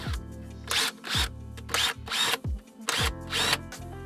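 A power drill backs self-tapping screws out of a cabinet door in a Winnebago Revel, with four short whirring bursts, each starting with a click and separated by brief pauses, quiet and close.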